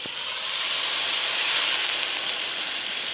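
Water poured into a hot pan of soybean curry with tomato paste makes a loud, steady steam hiss that swells quickly and holds evenly, close by and unbroken, with no talking over it.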